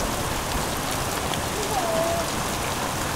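Heavy rain falls during a flood at an old house with water rising beneath the floor, a steady, dense hiss of downpour close by, with a brief faint tone rising over it partway through.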